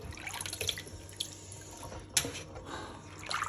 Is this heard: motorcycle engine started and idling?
no